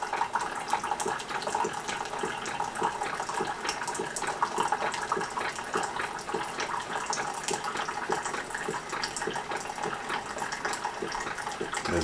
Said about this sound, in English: As you can see, the water is going down as it's brewing the cup.